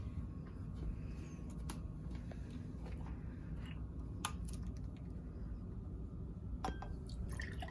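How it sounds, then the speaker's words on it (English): Water pours and trickles into glasses, filling each a quarter full for homemade lava lamps, with soft splashes and small clinks against a quiet room background. "Let's pour a quarter of water in each of these glasses."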